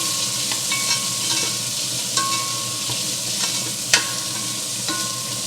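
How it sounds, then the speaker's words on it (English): Chopped pancetta sizzles in hot oil in a pot, a loud continuous frying hiss with occasional stirring scrapes and a sharp clink near the end, no voices. "let's saute this till the pancetta gets a little bit crispy."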